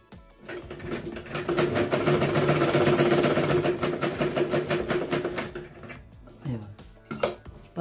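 A sewing machine stitches blouse fabric for a katori-style blouse, running in a steady, fast, even whir for several seconds, then slowing and stopping with a few short bursts near the end.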